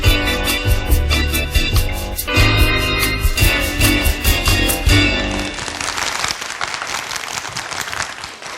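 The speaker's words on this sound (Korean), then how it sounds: "박수 감사합니다" At a talk concert on healthy eating to beat cancer, an audience claps along over loud music, then bursts into a wash of scattered applause as the music fades.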